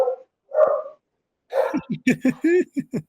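Several dogs bark nearby in a quick run of sharp yips and barks, starting with two isolated calls and then breaking into a dense burst.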